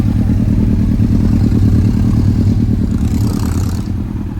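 A 2000 Yamaha R1 motorcycle idles after a cold start, a steady loud low engine throb with a fast even pulse, close by and easing slightly toward the end.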